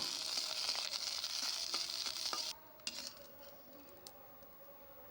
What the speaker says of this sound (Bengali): তারপর কিছু শুকনা মরিচ আর রসুন সরিষার তেল দিয়ে তারপর ভেজে নেব।